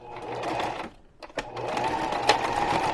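A sewing machine stitching a short back stitch on a junk journal cover, a close rapid mechanical whir that pauses briefly and then runs again.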